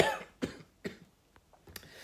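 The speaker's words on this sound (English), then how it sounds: "It's a tickly cough." A few short, dry coughs close by, spaced apart with quiet pauses between them, like a throat being irritated.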